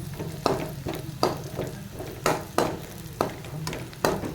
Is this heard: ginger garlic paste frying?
yes